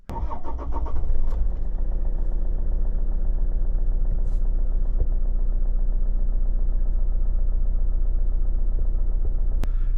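A Toyota RAV4 diesel engine idles steadily and close by after a mass air flow sensor cleaning, a low continuous rumble that holds an even pitch from start to finish.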